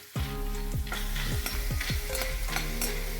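Edible gum (dink) pieces frying and puffing in hot oil for winter ladoos, a close, continuous sizzle with repeated scraping stirs of a spoon against the pan.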